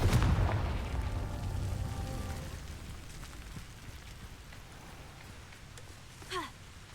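A Confringo spell explosion in the video game Hogwarts Legacy: a loud, deep blast at the outset rolls into a rumbling decay that fades over several seconds, with a faint, brief crackle near the end.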